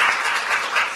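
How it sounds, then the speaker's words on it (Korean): A brief burst of big crowd applause at a Korean political discussion gathering, dense and steady clapping filling the moment, loud and close with no voices. "다시 한번 큰 박수 힘차게 부탁드리겠습니다."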